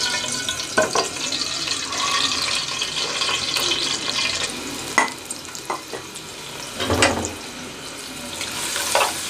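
Sliced onion frying in hot oil in a frying pan for chicken kabsa, giving a soft steady sizzle with occasional sharp clinks and scrapes of stirring.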